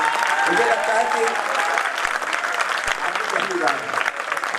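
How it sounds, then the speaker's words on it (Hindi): Audience at a Hindi kavi sammelan poetry gathering applauds loudly to welcome a poet, with sustained dense clapping over the whole stretch and a faint voice mixed in. "पूरा सदन एक बार जोरदार तालियों से उनका स्वागत करें"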